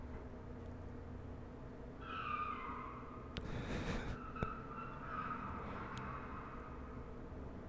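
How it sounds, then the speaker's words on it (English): A car making noise outside, heard faintly through a quiet room: a steady low rumble with a brief higher whine and a short whooshing pass midway, distant and subdued. "That car is still outside, still making a lot of noise."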